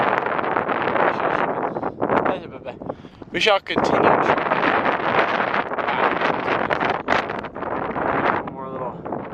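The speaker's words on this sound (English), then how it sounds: "It's pretty windy still." Wind buffets the microphone on the open summit of Mt. Baldy in California, gusting roughly and loudly in uneven surges while a person speaks briefly.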